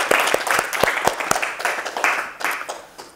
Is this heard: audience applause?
yes